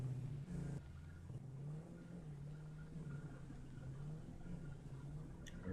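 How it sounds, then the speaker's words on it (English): Steady engine drone of a vehicle driving in the game Satisfactory, a low humming motor tone that wavers slightly in pitch as it rolls along, alone and fairly faint, with a brief rumble near the start. "I'm going to take my vehicle out there because it's loaded with goodies"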